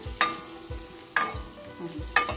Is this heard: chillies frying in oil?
yes